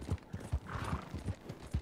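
Horse hooves clip-clop at a steady walking rhythm in Red Dead Redemption 2, each footfall distinct and fairly close, with no voices over them.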